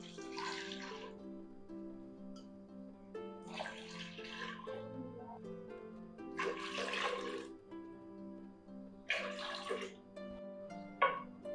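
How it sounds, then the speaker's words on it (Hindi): Water is poured in four separate bursts into red lentils for masoor dal, each pour splashing for about a second with short pauses between, quiet and close. "और 1 पाव दाल के लिए हम इसमें 4 कप पानी डालेंगे।"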